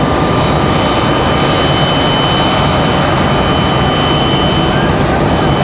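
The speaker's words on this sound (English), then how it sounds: "PSA Airlines coming in from DC" A PSA Airlines regional jet arrives at Raleigh-Durham airport from Reagan National in DC, producing a loud, continuous engine roar with a faint high whine that stays constant over the whole stretch.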